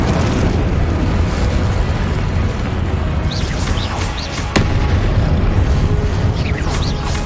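Confringo and Incendio spells in Hogwarts Legacy go off in continuous booming blasts and crackling bursts, with a sharp impact near the middle, all loud and dense with no talking.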